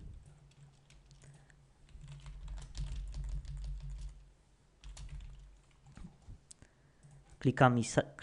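Computer keys and a mouse click softly in bursts of light taps, close and quiet, with a person speaking intermittently over them.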